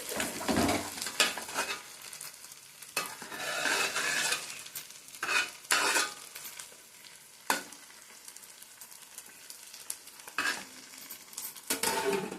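Fish frying in a pan, a low crackling sizzle with intermittent scraping and stirring bursts, close but fairly quiet, no talk.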